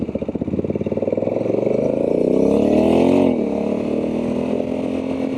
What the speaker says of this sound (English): Now I can get on the throttle a little bit more before the bike wants to shift, and it'll hold a gear a little bit longer.